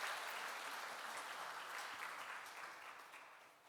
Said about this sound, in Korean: 여러분 따뜻한 위로와 또 격려의 박수를 드리겠습니다.